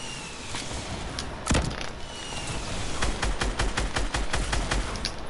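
Semi-auto sniper rifle shots in Fortnite, a series of sharp cracks, one heavy blast early and then a rapid cluster of several more shots, heard over a steady background of game ambience.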